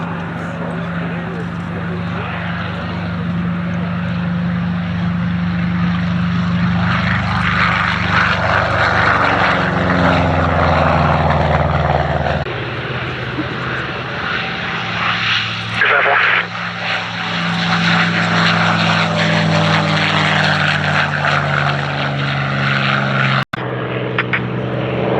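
A P-51D Mustang propeller fighter flies at an English airshow, its loud, sustained engine drone swelling and shifting in pitch as it passes, with a voice speaking over it.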